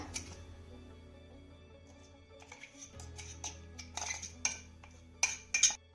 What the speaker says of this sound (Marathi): आपण आता हे किसलेल्या टोमॅटो मध्ये काढून घेऊया.